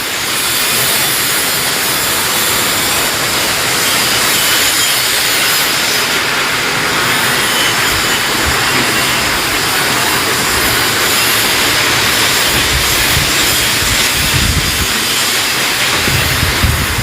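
Strong wind blows without pause during a storm before rain, a loud, dense roar with gusty swells and no break, close to the microphone and covering everything else.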